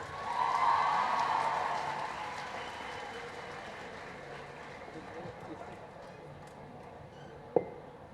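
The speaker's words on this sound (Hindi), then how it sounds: "एक दफ़ा आप लोग अपने लिए बहुत सारी तालियां बजाएं" A crowd at a poetry gathering in Quetta claps for itself in a broad wash of applause that swells early, then slowly fades, with a sharp knock near the end.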